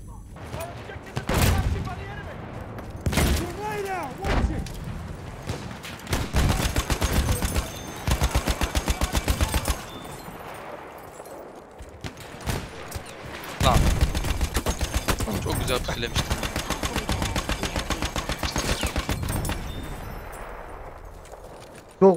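Battlefield 1 gunfire crackles in repeated rapid automatic bursts and single heavy shots, loud and close, over in-game rumble, while a voice talks intermittently.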